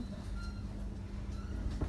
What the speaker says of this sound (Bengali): এই যে প্ল্যাটফর্মের থেকে মাত্র ট্রেনটা ছেড়ে দিল এই যে ট্রেনটা যাচ্ছে